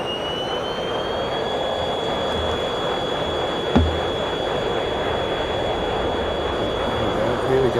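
Jet engines spool up in the Tiny Combat Arena flight sim, a steady roaring whine with a high tone that rises and then holds, loud and continuous, with a brief thump midway.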